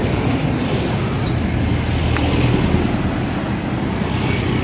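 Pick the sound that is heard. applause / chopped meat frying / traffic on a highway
traffic on a highway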